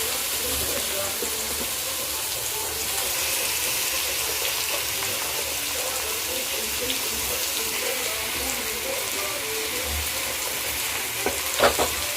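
Chicken frying over browned onions in a pan, a continuous dense sizzle with stirring, steady throughout and a few clatters near the end.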